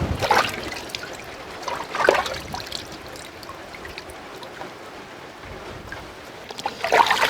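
Raw chicken for biryani is washed by hand in water, with repeated sloshing and trickling splashes in short bursts over quiet gaps, close and moderately loud.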